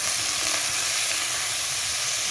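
Tomatoes and ginger frying in oil in a kadai for tomato chutney give off a steady, dense sizzle and hiss, close and continuous throughout with faint stirring, and no voices.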